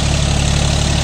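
A John Deere 5050 D 4WD tractor runs steadily at about 1500 rpm while puddling a field with a rotary tiller, its engine giving a loud, close, even drone with a pulsing low throb.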